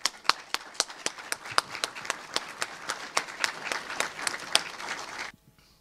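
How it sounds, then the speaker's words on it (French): At a colloquium, an audience claps in a clear run of sharp, distinct hand claps close by, keeping a fairly even rhythm for about five seconds before stopping abruptly into near silence. "Je crois qu'on peut les applaudir."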